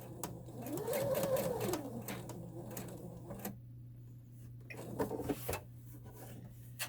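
Domestic sewing machine running in bursts as it stitches quarter-inch seams on a fabric drawstring pouch, a steady mechanical whir that starts and stops, with a brief pause and a few handling clicks between runs.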